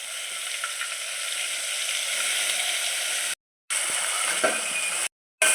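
Masala frying in oil in a pan for a sprouted-legume ghugri amti, giving a steady close crackling sizzle that cuts out twice for brief moments.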